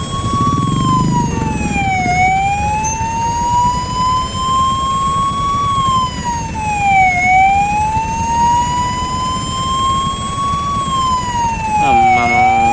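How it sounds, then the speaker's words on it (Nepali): An ambulance siren wails in a slow rising and falling pattern, loud and steady over engine rumble, then switches to a faster yelp near the end. "एम्बुलेन्सलाई साइड दिइहाल है एम्बुलेन्सलाई"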